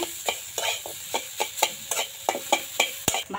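A spoon stirs spiced singara filling in a pan, scraping in a rhythmic series of about a dozen strokes over a soft sizzle, close up with no talk.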